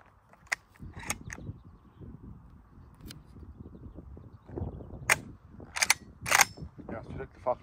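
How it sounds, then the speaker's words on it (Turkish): A shotgun firing a single slug at a range gives a sharp, short report, with other sharp cracks and clicks of handling around it and people talking quietly in the background. "Şimdi bu silahla da aynı şekilde tek kurşun atalım."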